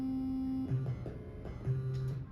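A sine wave tone from LSDJ running on a Game Boy, a pure steady synth pitch that shifts lower in short repeating notes over a noisy background hum, fairly faint with no talking.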